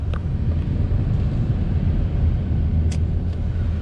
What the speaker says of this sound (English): Driving the Ford Focus.